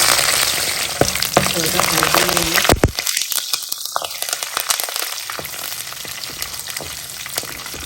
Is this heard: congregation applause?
no